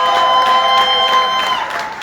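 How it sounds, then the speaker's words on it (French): Audience applause and cheering at a Congolese theatre honouring event, a dense steady wash of clapping that fades slightly at the end. "Est-ce qu'on peut faire un tonnerre d'applaudissements, s'il vous plaît, mesdames et messieurs?"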